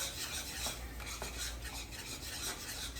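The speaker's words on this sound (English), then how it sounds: "stir everything together" A spoon scrapes and stirs through butternut squash pasta with Parmesan melting in, a continuous close rasping and squishing against the pan with no voices.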